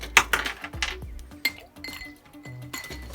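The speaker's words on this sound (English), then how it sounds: "So we're going to fill the glass right up with ice." Ice cubes clinking and clattering into a cocktail glass of lemon juice, orange juice and whiskey, a quick run of bright, close clinks followed by scattered single knocks and settling taps.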